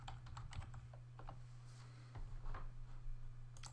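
Keys clatter on a computer keyboard while a sentence is edited in a document, a quick run of close, fairly soft clicks in uneven bursts over a low steady hum, with no talk.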